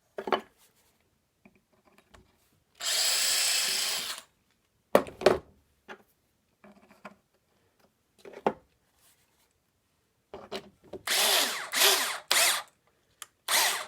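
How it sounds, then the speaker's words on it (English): A power drill whirs in two short bursts, pre-drilling softwood, separated by quiet taps and clunks of handling wood and tools. "And we can pre-drill this one."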